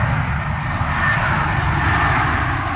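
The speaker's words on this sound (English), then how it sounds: "Now that's what you call a fabulous display, and what a gorgeous aircraft as well." An aircraft flies during an air display, its engine a loud, sustained roar that stays close and constant throughout, with no talk over it.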